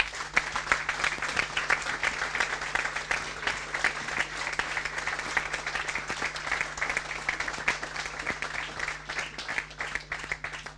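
Steady applause fills a municipal council installation meeting in a hall, many hands clapping continuously at moderate volume with no speech over it.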